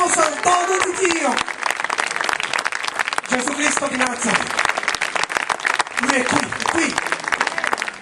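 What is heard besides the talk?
audience applause at an evangelistic meeting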